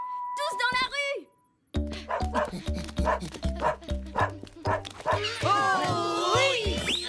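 A cartoon dog barks and yips in a rapid, loud series of short calls, with whimpering tones near the end; voices speak around it.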